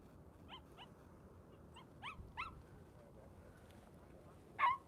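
A dog whimpers and yips in several short, rising cries, fairly faint against outdoor background noise, ending with one louder yelp.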